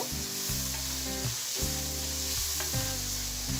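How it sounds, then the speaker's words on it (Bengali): Prawns frying in a small amount of oil in a pan, a close, steady sizzle with a repeating patterned hum beneath it, continuous and with no talk. "চিংড়ি মাছটাকে আমি একটু ভেজে নিচ্ছি"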